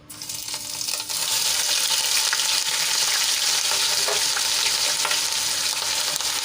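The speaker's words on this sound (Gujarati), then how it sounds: "તેલ આપણું ગરમ થઈ ગયું છે તો આપણે એમાં હિંગ એડ કરી લઈશું અને એક મોટી ચમચી જેટલું મેં લસણ અને આદુની પેસ્ટ લઈ લીધી છે એ એડ કરી દઈશું" Garlic-ginger paste and asafoetida hit hot oil for an eggplant bharta, sizzling loudly and steadily from start to finish with a brief rise at the beginning and no talking.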